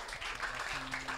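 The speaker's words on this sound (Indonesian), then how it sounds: "sekali lagi tepuk tangan" A podcast studio audience gives a short burst of clapping, a dense, steady patter of hands heard at moderate distance.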